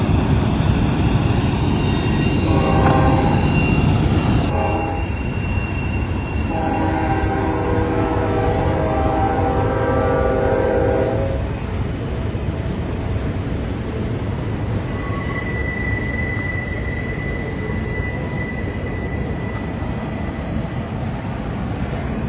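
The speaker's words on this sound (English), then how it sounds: "Train's going to make its way up to Sullivan's Curve now, right up above the top of the containers there." A freight train rumbles past at Cajon Junction in the Cajon subdivision, a loud continuous roar of wheels on rails with a sustained horn blast early on and a thin wheel squeal later, no talk.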